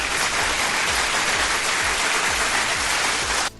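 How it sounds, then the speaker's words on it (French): Dense applause fills the space from an audience at an interview held by a dance site, a steady wash of many hands clapping at a constant loud level before it cuts off abruptly at the end. "Alors on applaudit."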